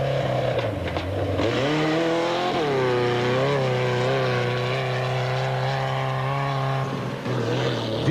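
Off-road racing vehicles in the Sugarbelt 400 time trial, an engine roaring loud and close at high revs, pitch rising and falling through gear changes and throttle, sustained without a break.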